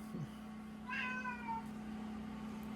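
A single drawn-out cat meow indoors, fairly close but soft, sounding over a steady low electrical hum from running household equipment.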